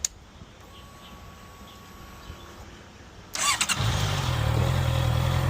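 Honda 650F motorcycle on its stock exhaust: a quiet idle-free lull with faint birds, then the engine cranks and fires up about three seconds in, settling into a steady, loud, close rumble.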